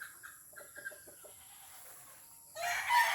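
Chickens in a small backyard coop of gamefowl such as Hiraw and Sweater give a few soft clucks. After a quiet stretch, a louder burst of coop noise comes up near the end.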